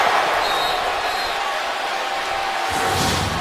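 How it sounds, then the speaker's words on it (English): A football stadium crowd at an NFL game between the Houston Texans and Tennessee Titans roars in steady, dense displeasure over a call, a broad wall of noise holding for a few seconds with faint voices beneath. "as you can hear, the crowd did not like the call"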